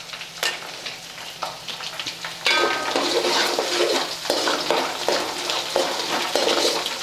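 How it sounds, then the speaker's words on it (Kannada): Crushed garlic and four slit green chillies fry in hot oil for avalakki chivda, crackling close and loud. The sizzle swells sharply partway through, with scattered spoon-against-pan scrapes and clinks. "ಮೆಣಸಿನ್ಕಾಯಿ ಪೂರ್ತಿ ಫ್ರೈ ಆಗ್ಬೇಕು, ಅಲ್ಲಿವರೆಗೆ ನೀವು ಫ್ರೈ ಮಾಡ್ಕೋಬೇಕು ರೀ"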